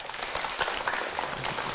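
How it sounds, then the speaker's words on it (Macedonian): An audience claps in a hall, producing a continuous, moderately loud wash of hands with no break and no voices over it. "Еден аплауз може."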